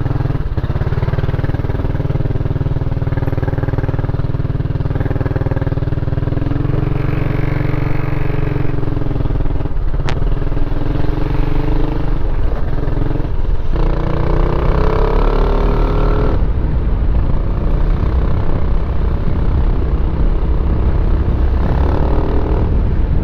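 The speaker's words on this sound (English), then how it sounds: "Loud scooter." A Kymco Xciting scooter's engine drones loudly and steadily while riding, with shifting pitch as speed changes and heavy low-end wind rumble, close up and continuous with no talking.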